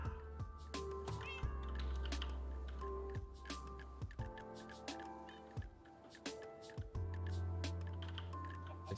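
Cats in the Minecraft video game meow repeatedly over steady background game music and clicking, the calls fairly quiet and overlapping throughout.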